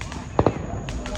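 Two sharp firecracker bangs burst in quick succession near the middle, with faint crackles and pops scattered before and after, while people talk at home in the background.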